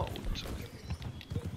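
Horse hooves in Red Dead Redemption 2 clip-clop in a quick, uneven rhythm close by, with low thuds over faint background game ambience.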